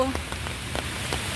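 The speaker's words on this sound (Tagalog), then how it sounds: "Yun ang background ko, ingay ng mga sasakyan at ang lagitik ng ulan." Heavy rain pattering outdoors, a steady wash of drops with several distinct louder splats recurring at irregular intervals, moderately close and fairly quiet overall.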